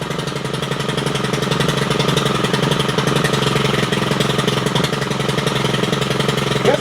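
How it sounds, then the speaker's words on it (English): A STIHL FS 111 RX four-stroke engine, run on two-cycle oil mix, runs at a steady, torquey roar for the whole stretch, close and loud with no break in its rhythmic chatter. "That is a 4-stroke engine that uses 2-cycle oil."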